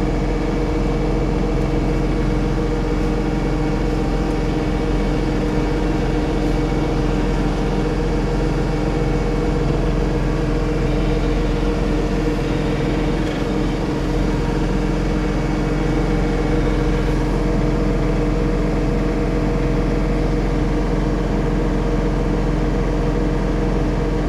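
A John Deere 30463R cab tractor runs while blowing snow, giving a steady, unbroken low engine drone with a constant mechanical hum and no clear changes in pace.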